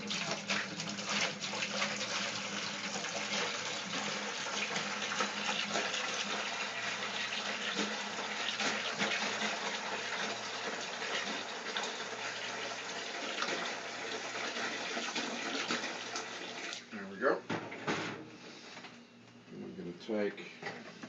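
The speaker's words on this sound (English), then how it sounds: "I'm just going to put a couple of gallons in." Tap water rushes steadily into a brewing bucket for a honey wheat beer, a continuous gushing stream lasting about seventeen seconds before it shuts off, followed by a few clunks and handling noises.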